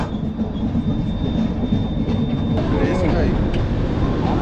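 Inside the 12245 Howrah–Bengaluru Duronto Express as it passes Gudur Junction on the South Central Railway, a loud, steady rolling rumble of the coach fills the air, with faint squeals and a constant high whine.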